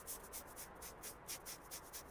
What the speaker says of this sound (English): let's do this bit of sanding and then we can paint it